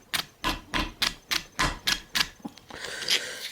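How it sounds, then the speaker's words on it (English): A hammer strikes the upper ball joint on a GM Envoy/Trailblazer upper control arm, about nine sharp metallic blows in a steady rhythm, close and loud, then a scraping clatter of metal at the end. "I just took a hammer and just kind of hit that there."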